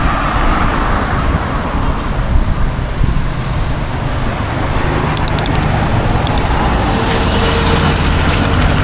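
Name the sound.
traffic of large vehicles passing on the road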